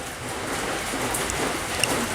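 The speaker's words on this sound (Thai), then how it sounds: "ฝนตกละอากาศดีดี" Steady rain pours outside a rural home kitchen, a dense, even hiss of drops on surfaces that holds constant throughout with no voices.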